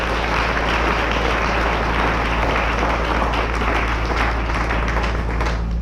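Church congregation applauding at a worship service, a dense, steady wash of clapping that holds at an even level throughout, with a low hum beneath and no cheering standing out.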